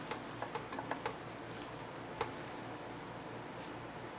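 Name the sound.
stirring sauce through garlic noodles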